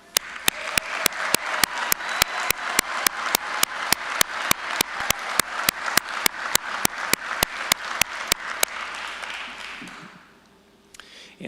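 Audience applause for new probationary firefighters at a Renton Regional Fire Authority graduation, a sustained crowd of clapping punctuated by sharp, evenly spaced loud claps, fading out near the end.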